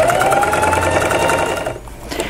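A sewing machine stitching a fabric apron runs loud and close in a fast, even mechanical rattle, then slows and stops near the end with a brief trailing clatter.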